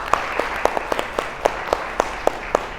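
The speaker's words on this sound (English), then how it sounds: "should give her and the team here a big round of applause" Applause at a public art talk with curators, heard as a steady bed of clapping with regular sharper claps standing out, moderately loud and without speech over it.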